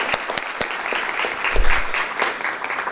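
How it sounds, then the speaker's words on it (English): An audience at a poetry event for poet Earl Wilcox claps in a short burst of applause, dense and fairly close, without talking. "So let's maybe a round of applause for Earl and for all the folks who made this happen"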